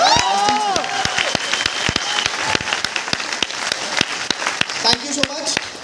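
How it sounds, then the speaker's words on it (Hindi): Crowd at a Vestige business event applauding, loud dense clapping with distinct sharp claps and some cheering, while a voice speaks over it at the start. "तो एक बार जोरदार तालियां वेस्टीज के लिए होनी चाहिए।"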